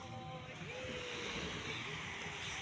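Sea waves wash at the beach in a steady, loud roar mixed with wind buffeting the microphone, with a faint voice underneath.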